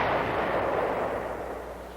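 The long rumbling roar of a mine explosion during the Vietnam War near Khe Sanh in 1968, starting loud and slowly fading as a broad, noisy wash with no voices.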